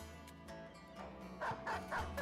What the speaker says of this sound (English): Let the dog out.